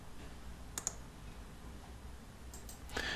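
A few sharp computer mouse clicks sound during data import work in QuickBooks, quiet and isolated against a faint room hiss, with a pair early on and another cluster near the end.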